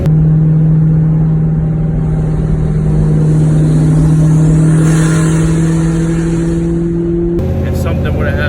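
A turbocharged Foxbody Mustang accelerating hard on a pass, its loud engine tone climbing steadily before cutting off sharply near the end, with voices heard over it.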